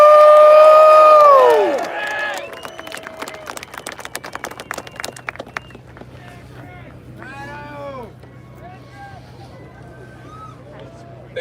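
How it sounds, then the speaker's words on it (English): A rally crowd cheers and whoops loudly at first, then settles into scattered clapping and shouts while voices and a microphone-amplified speaker carry over a low hum. "Give him a round of applause."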